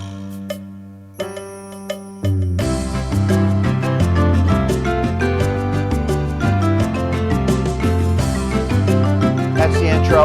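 An electronic organ plays a salsa rhythm at tempo 86, opening with a few chime-like tones before a full, steady groove of bass, chords and crisp percussion begins and runs loudly to the end.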